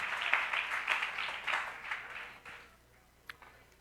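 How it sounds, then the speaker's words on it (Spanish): A church congregation applauds God in a sustained wash of clapping that fades out after a few seconds, heard at a distance in a reverberant hall. "Aplausos al todopoderoso Dios."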